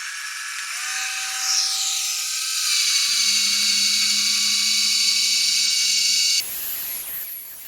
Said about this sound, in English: Now I think I'm going to go up to full speed this time on the polisher.